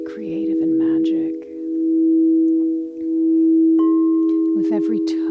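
Crystal singing bowl ringing a sustained pure tone tuned to 432 Hz, loud and steady with a gentle swelling pulse, a second higher tone joining near the end.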